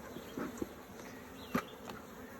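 Carniolan honey bees buzz softly during a hive inspection, a faint continuous hum with a few brief louder passes close by.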